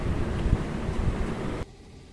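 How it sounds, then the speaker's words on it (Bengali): A boat motors along the Ganges past the Varanasi ghats, its engine a low steady rumble mixed with rushing wind buffeting the microphone. The sound cuts off abruptly near the end, leaving only faint background. "গঙ্গার শুদ্ধ বাতাসের মধ্যে দিয়ে আমাদের নৌকা ছুটে চলেছে ঘাট পরিদর্শন করাতে"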